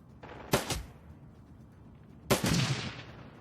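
A gun turret fires in the Shadowrun: Dragonfall video game, two sharp, loud bursts about two seconds apart, each followed by a short decaying tail over a quiet background.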